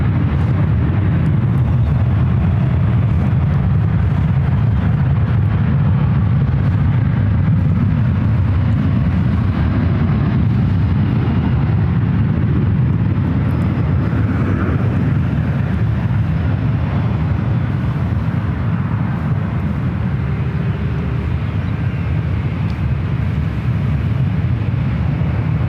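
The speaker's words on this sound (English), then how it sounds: "United 777 coming up from Munich, Germany." A United Airlines Boeing 777-200ER jet arriving at San Francisco airport from Munich, heard as a long, loud, continuous engine roar with wind-buffeted rumble throughout.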